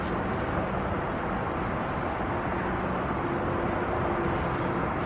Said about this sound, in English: that noise you can hear is the M6, the motorway